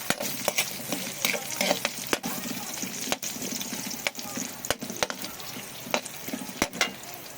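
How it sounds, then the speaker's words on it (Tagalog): A spatula scrapes and clacks against a pan as vegetables are stirred over steady frying sizzle, with sharp taps landing at irregular intervals close by. "Haluan natin siya ng konting bilis para malasa yung ating gulay."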